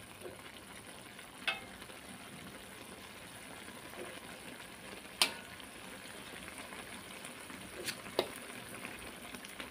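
A soft steady bubbling simmer of cucumber and green beans in a pan, with a few brief clinks of a utensil against the cookware.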